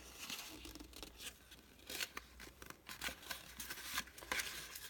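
Cardstock designer paper being folded by hand into a small fold-flat 6x6 box, with close crisp creasing, rustling and crinkling strokes in a steady irregular series, with no talking.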